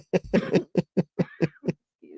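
A rapid burst of about eight short, sharp coughs in a row, close and dry, ending with a faint throaty sound.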